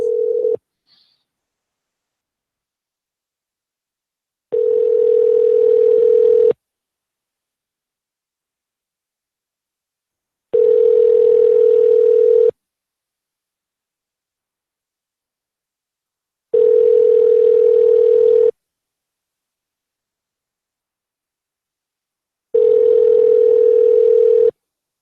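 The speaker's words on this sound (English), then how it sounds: "Calling another number here." A telephone line rings while a number is being called, with four long, loud steady tones, each about two seconds long, separated by roughly four seconds of silence and preceded by a brief click.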